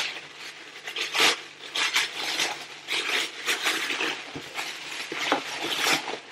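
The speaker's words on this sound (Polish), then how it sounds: "znowu pięknie tak to wszystko zapakowane w bibułę, że aż szkoda mi tutaj rozrywać" Tissue paper gift wrapping is torn open and crumpled by hand at close range, bursts of crinkling and ripping rising and falling irregularly, with no talk heard.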